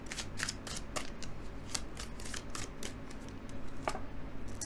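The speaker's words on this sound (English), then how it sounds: "Let's draw just maybe 1 or 2 more tarot cards for you," Tarot cards are shuffled and drawn with soft, crisp riffling flicks and taps, close and quiet, in an irregular series over a few seconds.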